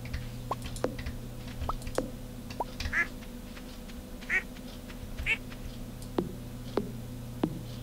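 Ducks quack in the farming video game Stardew Valley, a few short, separate calls spread at intervals over steady background game music and ambience, with no speech.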